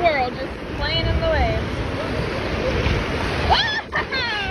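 Ocean surf breaks and washes at a beach beside a fishing pier, a steady rushing roar with gusts of wind over it and people shrieking and calling out nearby.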